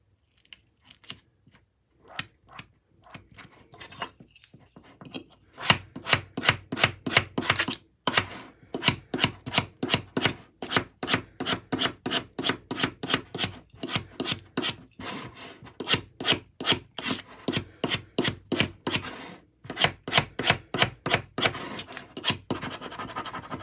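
Repeated rasping strokes as transfer tape is rubbed firmly down onto a lid for a Cricut craft, a few light passes at first and then a long, steady run of brisk scratchy rubs, close and alone.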